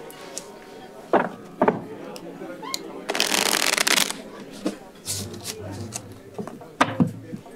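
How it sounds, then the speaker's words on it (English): Someone shuffles a deck of playing cards before a game, producing a long riffling burst with scattered card snaps and taps around it, mixed with voices speaking nearby. "Shuffle the deck."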